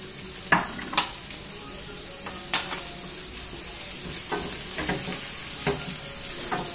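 Garlic and chillies sizzle in hot oil in a pan, with a steady close fry broken by a few sharp clicks and stirring knocks from a utensil against the pan.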